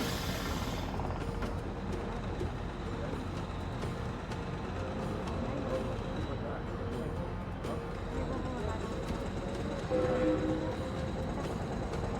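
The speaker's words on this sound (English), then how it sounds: "Now we can sit back and enjoy a relaxing train ride." Train ride sound in the Murder on the Orient Express video game, a steady rumbling rattle of a moving railway carriage that continues evenly throughout, with brief faint tones over it.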